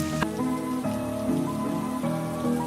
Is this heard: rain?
yes